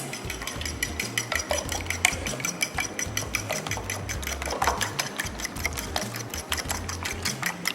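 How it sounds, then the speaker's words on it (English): Chicken tender mixture being mixed quickly in a bowl, a rapid run of clinking, scraping utensil strokes, close and steady for several seconds. "And I'm going to give it a quick mix"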